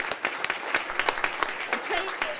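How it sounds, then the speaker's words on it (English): Audience applause at a talk on democracy and digital information, with sharp separate claps rising loud and near while a voice speaks over them. "I need everybody to stand and applaud for Tracy Navachoke"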